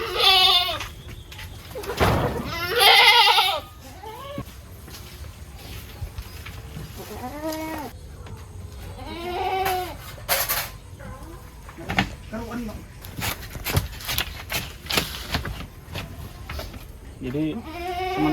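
Goats in a farm pen bleat repeatedly at close range, some calls loud and overlapping, while people talk over them.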